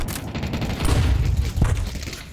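Grenades thrown at round start in a Counter-Strike match, heard as a dense, continuous rumble of muffled blasts and game noise.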